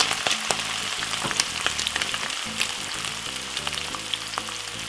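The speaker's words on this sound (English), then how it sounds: "put all of your veg in the oil" Saltfish and mixed vegetables frying in hot oil for a Jamaican-style fry-up, a steady close crackling sizzle with bursts of spattering and occasional stirring, no talk.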